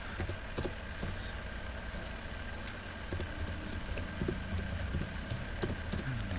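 Typing on a computer keyboard, filling in a YouTube video description: a steady run of quick, fairly soft key clicks with occasional louder taps, heard alone with no talking.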